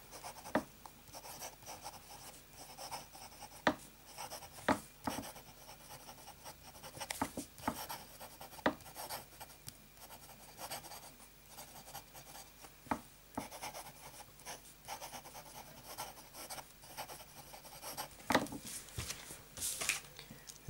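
A medium nib fountain pen filled with Diamine Soft Mint ink scratches across paper in quiet, close strokes, with soft irregular rustles and taps as the lines are written.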